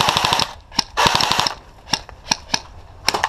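Airsoft guns firing on an outdoor airsoft field: two sustained rapid bursts followed by several sharp single shots, loud and close with no talking.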